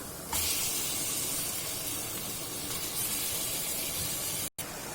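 Marinated chicken goes into hot ghee with onions and curry leaves, setting off a sudden loud, steady sizzle that fills the space and holds almost unbroken, with a brief drop near the end and no voices.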